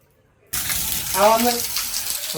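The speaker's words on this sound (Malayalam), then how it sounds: "ട്രെയിനർ ഇപ്പം അത് ഊരിയിട്ട് വെള്ളം ഒഴിക്കും അതിനകത്തോട്ട്" Water poured by hand into a water pump motor, a sudden gushing, splashing pour that starts abruptly and runs steadily close by, swelling briefly in the middle with a faint voice behind it.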